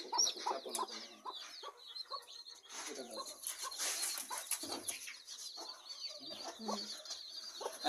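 Hens clucking on a small farm where a hen has just hatched chicks, with close, irregular clucks and squawks and bursts of rustling and fluttering against a busy farmyard background.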